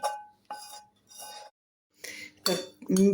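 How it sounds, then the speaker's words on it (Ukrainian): Minced meat and vegetables are stirred in a pan, heard as several short bursts of utensil scraping and clinking against the metal. Quiet gaps separate the bursts, and the last ones are louder. "Беремо фарш, а це додаємо фарш. Ось так і перемішуємо все."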